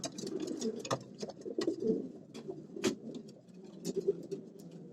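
Soft cooing of homing pigeons rumbles low and continuous, with scattered faint clicks and taps over it, fairly quiet and close.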